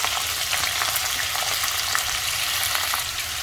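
Potatoes with fresh green winter garlic fry loudly in a pan, a constant close crackling sizzle with occasional stirring scrapes and no talk.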